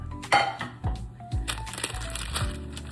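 Candied walnuts scraped from a pot onto a parchment-lined pan in a home kitchen, giving a short run of crunchy clatters and scrapes with a few louder knocks, close and moderately loud.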